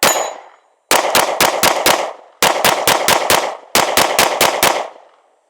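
A Sig P365X Macro Comp pistol fires three quick strings of about five shots each, loud and close with sharp ringing cracks and short echoing tails between strings.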